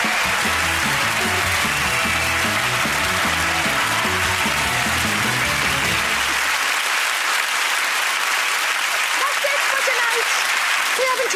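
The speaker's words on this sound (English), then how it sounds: "Let's give them a round of applause" Studio audience at a television comedy programme claps loudly and steadily, a thick wash of applause running throughout, with music playing under the first half before fading out.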